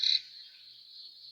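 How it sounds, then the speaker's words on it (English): A dense chorus of crickets at night, many chirping together, forms a steady high-pitched shimmering trill that holds unbroken, opening with a louder burst up close before settling to a constant faint hum. "Listen to those crickets chirping up in the hills."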